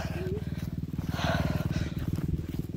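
Motorcycle engine running steadily close by outdoors on a walking route, a rough low idle throb that continues throughout under brief talk.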